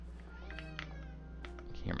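A house cat meows in the background indoors, two or three drawn-out, wavering meows over a steady low hum, fairly faint and set back from the microphone.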